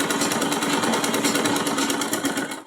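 Sewing machine running continuously while stitching down both sides of a sleeve lining, a loud, dense, steady mechanical whir with rapid needle pulsing throughout, fading slightly at the very end.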